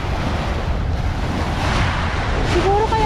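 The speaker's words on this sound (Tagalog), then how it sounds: "Grabe yung alon ah." Steady roar of surf on Manila Bay and wind buffeting the microphone, loud and close, with waves churning continuously; a faint high whistle near the end.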